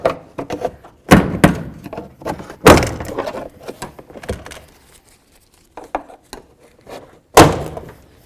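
A plastic trim tool pries the door panel off a 2007-or-later Toyota Tundra door. Three loud, sharp pops from the retaining clips stand out among smaller knocks and taps, with quiet pauses between them.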